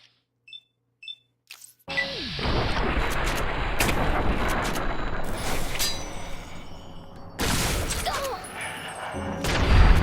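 Rifle fire in a shooter video game, a few short beeps and then a long dense stretch of rapid, loud gunfire that breaks briefly and resumes.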